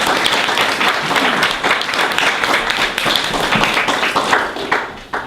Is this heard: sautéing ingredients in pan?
no